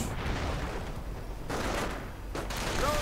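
Machine-gun and rifle fire crackles steadily through a video game battle as grenadier infantry fight with an MG, a dense, continuous rattle of overlapping bursts with a few louder sharp reports.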